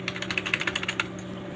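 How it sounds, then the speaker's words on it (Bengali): Keys pressed on a desktop computer keyboard, a quick run of about a dozen close, crisp plastic clicks over a faint steady hum. "এন্টার দিলাম আবার এন্টার দিলাম"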